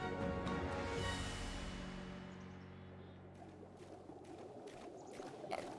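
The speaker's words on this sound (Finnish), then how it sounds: "Ja varmaan kuulette, että toi on vesi" A water sound effect from the video game Audio Wizards plays as a faint rushing pour that sweeps downward and fades, followed by quiet trickling and splashing.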